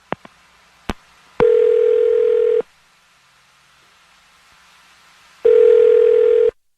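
Telephone dial tone placing a call: two steady tone bursts of about a second each, separated by a few seconds of near silence, with a couple of short clicks before the first.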